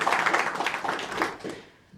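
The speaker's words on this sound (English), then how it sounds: "round of applause for that" A panel audience at an international startup talks event applauds for about two seconds, dense clapping that fades out toward the end with no talk over it.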